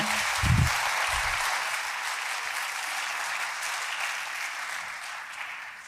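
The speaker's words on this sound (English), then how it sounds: "give a big applause to Natasha Bart and her talk" Applause from a tech conference audience welcoming a speaker, a broad, sustained wash of many hands clapping that holds steady and fades slightly at the close, with a brief low thump near the start.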